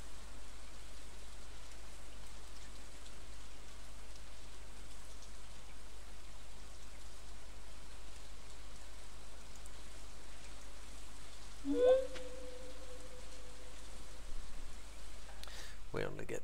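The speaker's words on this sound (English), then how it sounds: "We only get the sound when it's raining." Steady rain falls in the Stardew Valley farming game, a soft, even hiss of rainfall running the whole time as a faint background bed, with a brief tonal game sound rising partway through.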